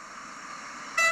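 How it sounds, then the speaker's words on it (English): A diesel multiple unit train sounds its horn in a short, loud, bright blast near the end, rising above a steady rumble of background noise. "please honk, and they honk"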